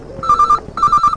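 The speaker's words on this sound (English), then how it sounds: "The phone went in Storrs' college room." An old-style telephone in a college room rings with two bursts of rapid electronic trilling separated by a short pause, loud and close with no talk.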